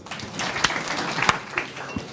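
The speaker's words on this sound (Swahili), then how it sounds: "Tumpigie makofi." Audience at a business talk on growth and inflation applauding, a broad wash of clapping hands that swells in bursts with a few sharper claps standing out, steady and moderately loud.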